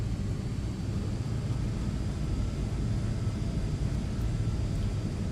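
A simulated aircraft engine in a flight simulator drones steadily as power is increased for taxiing, a dense low rumble with broadband hiss that holds constant and continuous throughout, with no speech over it.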